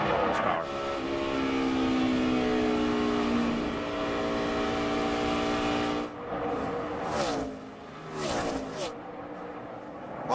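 NASCAR race car engine heard onboard at the 2006 Yellow Transportation 300, a loud sustained drone that rises in pitch as it accelerates, then drops away and surges again near the end.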